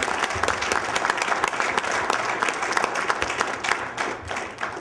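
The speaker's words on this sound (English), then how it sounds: "So give them a round of applause, and then we'll begin." An audience at a civil rights panel on policing and race in Cambridge applauds the panelists, dense steady clapping from a sizable crowd that carries evenly for several seconds with little else heard.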